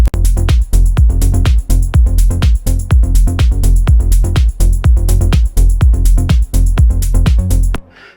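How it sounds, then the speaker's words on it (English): A steady techno drum loop thumps at a driving tempo, with punchy kicks, a deep bassline, ticking hi-hats and snare hits, ending abruptly. "I basically made this loop with kick, bass, hats, and snare"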